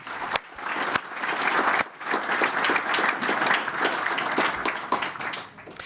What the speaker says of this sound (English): So I think a big round of applause for that,